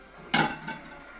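A spoon thuds and clinks as it scoops cheesy potato bake onto a plate, one clear knock followed by a softer scrape.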